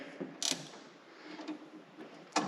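A wrench tightening wiring terminal connections on a Warn VRX 4500 winch, faint close ratcheting clicks in a few short bursts with quiet gaps between.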